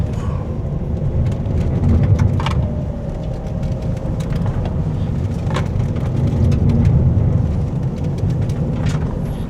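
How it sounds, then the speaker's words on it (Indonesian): Interior rumble of a Toyota Veloz gasoline car driving a slalom at about 40 km/h, a steady low road-and-engine drone with scattered clicks and knocks from the cabin, loud and continuous throughout. "berikutnya kita akan slalom dengan kecepatan lebih tinggi ya. Sekitar 40 km per jam dengan Veloz gasoline ini"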